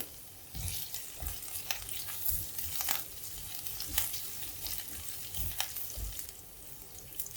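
Chopped ginger, green chilies and curry leaves fry in hot oil for dahi kadhi, a steady close sizzle broken by occasional soft stirring scrapes.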